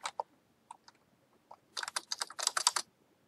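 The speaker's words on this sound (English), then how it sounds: "So type in Regal Split." Fingers typing a font name on a computer keyboard, a few isolated key taps followed by a quick run of crisp clicks, close and quiet with no talking.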